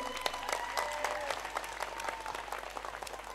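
An audience applauds after a village dance troupe's performance, a dense and fairly loud burst of many hands clapping at once that holds steady for a few seconds.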